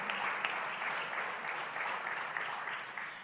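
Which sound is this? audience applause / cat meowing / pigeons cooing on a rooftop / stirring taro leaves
audience applause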